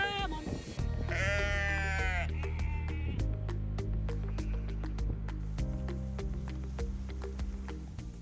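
Sheep on a Chilterns farm bleat several times close by, with wavering cries over a low steady hum and a rhythm of sharp clicks, a voice speaking at the start.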